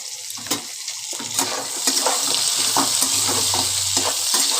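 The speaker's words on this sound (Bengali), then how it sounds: "পেঁয়াজ কুচি দিয়ে আবার খানিকক্ষণ ভাজা ভাজা করে নেব" Chopped onions fry with potatoes in a pan, a steady close sizzle broken by repeated scraping strokes of a spatula, with no voices.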